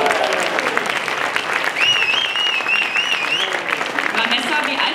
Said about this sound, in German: Ich glaube, das ist ein Applaus verdient